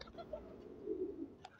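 A young pigeon coos softly in a few low, rounded pulses, faint and close, with a brief higher chirp near the end.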